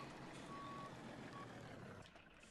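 A truck's reversing alarm in Farming Simulator 17 gives one long beep and then a short one, faint under a steady engine rumble that drops away near the end.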